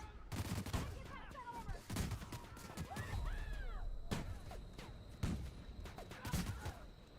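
A newly picked-up gun in a space-set video game fires repeated sharp shots in irregular bursts, mixed with chirping, sweeping game effects and a thin high electronic tone, moderately loud throughout.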